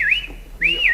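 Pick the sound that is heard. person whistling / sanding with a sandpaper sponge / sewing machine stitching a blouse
person whistling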